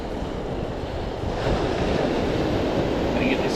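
Heavy ocean swell surging and washing over coastal rocks at Batemans Bay, a loud, continuous roar of surf with wind buffeting the microphone throughout.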